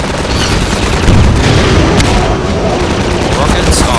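Loud rocket explosions and heavy booming gunfire fill a Half-Life 2 battle against a gunship, a dense and continuous barrage with no clear gaps.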